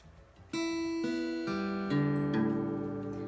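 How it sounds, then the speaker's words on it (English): Acoustic guitar strings are plucked in sequence, building into a ringing chord that sounds sour and out of tune as it sustains. "Do you hear those 3 strings at the top? That is untuned."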